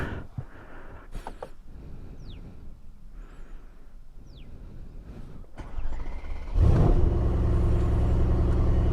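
A Mercedes C63 AMG with a 4-litre bi-turbo engine and active sport exhaust comes to life after a few clicks and shuffles, bursting into a loud, deep rumbling idle that holds steady to the end.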